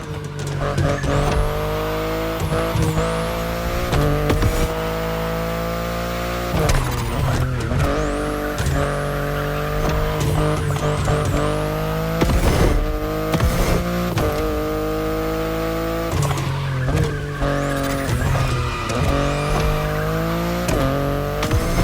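A BMW i8 sports car is driven in the video game The Crew Motorfest, its engine droning loud and steady throughout with repeated tire squeals and skids as it is pushed hard.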